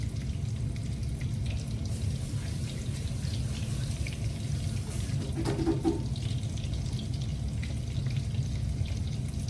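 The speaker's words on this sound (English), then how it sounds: "Now I gotta wash my hands off again" A kitchen tap runs steadily while hands are washed under it, a constant close rush of water with slight splashing changes midway and no talk.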